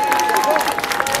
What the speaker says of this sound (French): Si vous voulez l'antre du serpent géant, applaudissez.